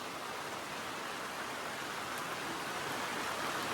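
Steady, dense rain pours down in a Konkan village, a constant even hiss with no pauses and no voices.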